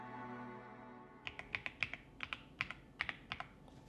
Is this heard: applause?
no